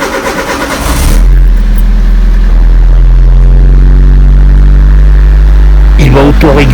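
Citroen AX, Saxo or Peugeot 106 with a PSA TU engine cranking and catching, then settling into a loud, steady close-up idle drone before a brief burst of noise at the end.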